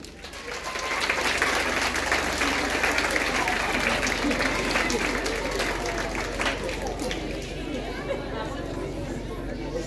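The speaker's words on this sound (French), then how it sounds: "Je vais vous demander d'applaudir, s'il vous plaît, l'inspecteur académique" An audience of parents, teachers and children at a school children's choir event applauds in a full, sustained wave with crowd chatter underneath and a low steady hum, holding strong before easing slightly.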